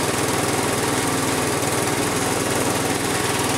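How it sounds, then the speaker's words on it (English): A 6.5 HP 212cc Predator engine fitted to a snowblower runs up close with a loud, steady putter, holding an even rhythm the whole time, alone with no voices. "It runs real quiet too."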